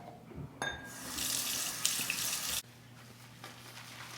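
Water runs from a tap in a steady splashing rush for a couple of seconds during a wet shave, then shuts off, leaving a quiet hum.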